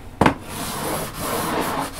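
A guitar part is rubbed back and forth on sandpaper at close range, opening with a sharp scrape and then a steady gritty rasp with no talking.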